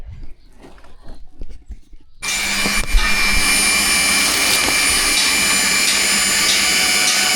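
A power drill bores holes in a workpiece for new planting wheels, a steady loud whirring drone that starts abruptly after a quiet stretch and runs continuously to the end.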